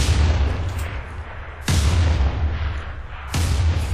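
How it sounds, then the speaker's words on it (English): Cannons fire in Civilization VI, three heavy booms spaced evenly apart, loud and close, each followed by a rumbling decay, with no voices. "3 cannons fire."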